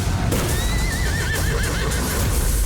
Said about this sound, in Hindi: विक्रम सिंह को घोड़ा है आजाद